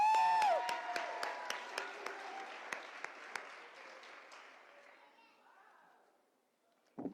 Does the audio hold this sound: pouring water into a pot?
no